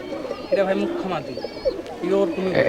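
Rajshahi Giribaz pigeons cooing close by, several soft throaty coos in repeated bursts with someone talking over them.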